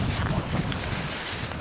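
Wind blows across an airfield taxiway, a dense continuous rush and buffeting against the microphone with no clear breaks.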